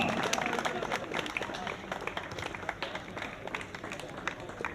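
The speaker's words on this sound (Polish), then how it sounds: "Wielkie brawa!" Scattered clapping from a crowd at a youth strongman competition, fairly faint and distant, with a busy murmur of voices and movement mixed in.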